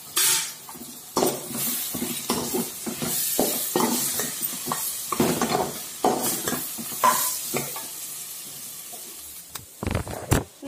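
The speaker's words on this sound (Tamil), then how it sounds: "இந்த முந்திரி பருப்பை இப்போ சேர்த்து வதக்கிப்போம்." Cashews sautéed in a pan, with a steady sizzle of frying under repeated scraping stirs of a spoon, close and fairly loud throughout.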